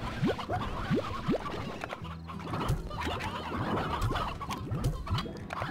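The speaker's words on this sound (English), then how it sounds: "I got a few spare chickens on the go." Spare chickens in the Slime Rancher video game clucking and squawking in a busy overlapping chorus, with rising chirps and scratchy bursts repeating throughout, close and steady.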